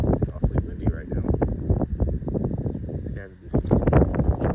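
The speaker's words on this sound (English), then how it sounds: "It's awfully windy right now." Gusty wind buffets the microphone with low rumbling bursts throughout, while someone talks outdoors in a market garden in spring.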